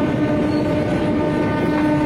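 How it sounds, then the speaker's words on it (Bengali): A local train pulls into Kalyani Shilpanchal station, its steady loud rumble and rolling rail noise filling the whole stretch with a sustained tonal hum above, and no voices over it. "আমাদের ট্রেন এখন কল্যাণী শিল্পাঞ্চল স্টেশন ঢুকছে।"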